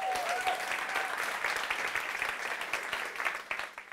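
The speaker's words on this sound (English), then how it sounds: "Huge round of applause." An audience at a poetry slam event in Parramatta applauds to welcome a spoken word poet, a steady, full burst of clapping sustained for several seconds, loud and close.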